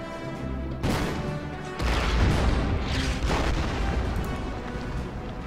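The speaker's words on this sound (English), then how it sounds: "Let's bomb that with the artillery." Artillery bombardment in the Order of Battle strategy game, Burma Road campaign: heavy booming blasts and rumbling impacts follow one another over a few seconds, loud and dense with no pause between shells.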